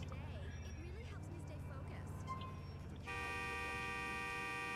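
Car horn honking in the video game Grand Theft Auto IV, a steady sustained horn tone that cuts in partway through over a busy game soundscape of traffic and ambience.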